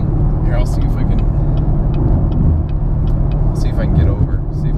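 A Dodge Challenger drives on the freeway, its engine and road rumble steady and loud throughout while people talk over it inside a nearby car.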